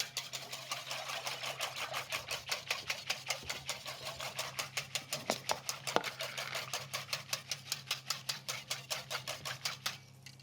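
Vegetarian mixture being whisked in a bowl, making rapid, evenly spaced metallic clicks that run continuously for about ten seconds, close and fairly quiet.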